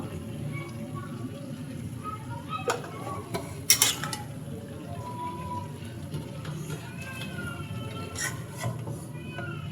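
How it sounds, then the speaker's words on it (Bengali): Shrimp and potato curry with cumin powder stirred in a pan, heard as soft scraping and occasional metal clinks over a quiet background hiss, with one louder clatter near the middle. "জিরা গুঁড়োটা দিয়ে আমি সুন্দর করে নেড়ে দিচ্ছি।"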